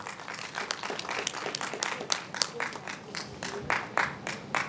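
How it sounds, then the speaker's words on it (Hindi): Audience applause at an awards ceremony for young achievers, a dense wash of clapping from a crowd that holds steady for several seconds with scattered louder claps, and no voices over it. "जोरदार तालियां इनके लिए बजा रहे हैं"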